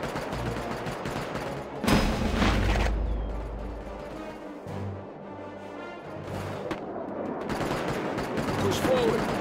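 Gunfire and explosions from the WW2 real-time strategy game World War Armies, with bursts of shots and heavy booms over a dense, constant battle din, loud throughout.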